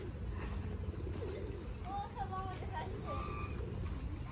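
Pigeons coo in a few soft, low warbling calls outdoors, with other birds chirping briefly over a steady background hum while people talk nearby.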